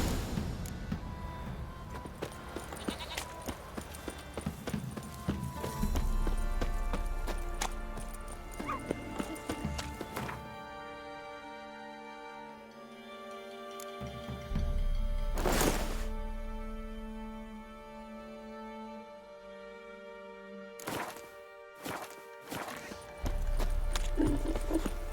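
A horse in The Witcher 3: Wild Hunt trots and gallops with rhythmic hoof clip-clops, interrupted by a loud whinny and snorts, over background game music.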